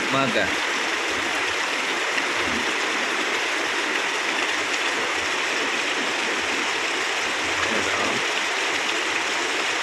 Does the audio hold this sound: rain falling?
yes